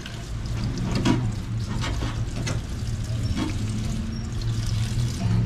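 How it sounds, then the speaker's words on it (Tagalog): Strong running tap water washing papait ingredients in a kitchen sink, a steady broadband splashing stream close by that lasts the whole stretch, with some low rumbling underneath. "Buti na lang malakas-lakas yung tubig namin ngayon."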